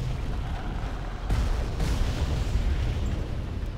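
Explosion in the video game BloodRayne 2, a dense, rumbling blast of broadband noise with a sharp burst partway through, sustained and loud without any voices over it.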